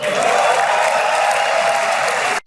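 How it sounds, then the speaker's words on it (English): Knesset members applaud in the Israeli parliament, a dense, loud burst of clapping from a large crowd that holds steady for a couple of seconds and then cuts off abruptly. "while we watch the Knesset applauding these"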